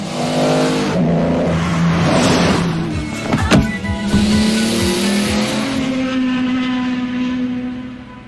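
A Nissan GT-R races at speed, its engine roaring and revving close by while tires squeal and skid in a sharp burst midway before the engine note settles into a sustained drone.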